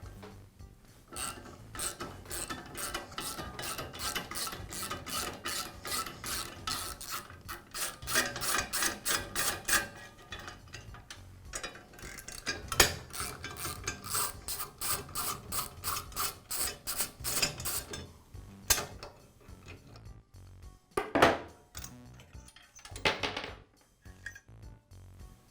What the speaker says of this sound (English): I'll begin by removing the motor pulley cover.